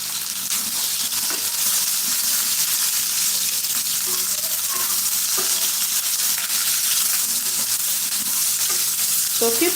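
Red onions stirred and fried in a pan, with garlic and ginger stuck to it, for a chicken curry: a steady close sizzle runs throughout, broken by occasional light scrapes and clinks of the stirring utensil.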